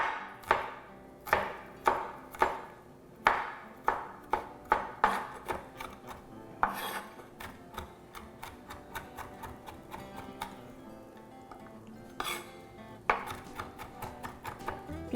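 A kitchen knife chops two garlic cloves on a cutting board, sharp rhythmic knocks spaced out at first, then quickening into rapid, lighter taps, fairly quiet with no talking.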